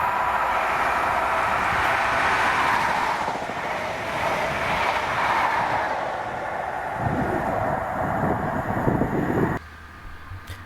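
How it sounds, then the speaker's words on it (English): A ScotRail HST headed by power cars 43013 and 43035 passes close by at Monifeith, a loud continuous rumble and roar of wheels and engines that swells and holds for about nine seconds before dropping off sharply to quieter background. "here came 1B35, the 1459 ScotRail service to Edinburgh Waverley from Aberdeen with 4313 and 43035"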